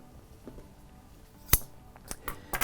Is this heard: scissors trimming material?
yes